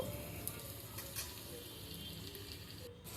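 Chopped tomatoes and yogurt sizzle in a pan while chicken biryani is being cooked, a faint but continuous frying hiss with occasional soft crackles and stirring scrapes.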